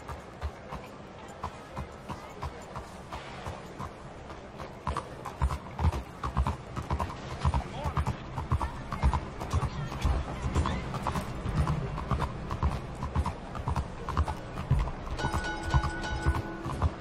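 Horse hooves clip-clop in a steady, driving rhythm in Red Dead Redemption II, growing louder after the first few seconds, with a faint whinny and bright game-like tones near the end.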